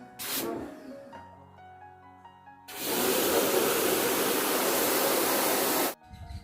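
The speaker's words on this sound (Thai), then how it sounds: "เราก็ทำการฉีดล้างทั้งออยเย็นและโครงนะครับ" A water spray jet washing an air conditioner's evaporator coil and frame: after some clatter and ringing, a loud, steady, close rushing hiss runs for about three seconds, then cuts off abruptly.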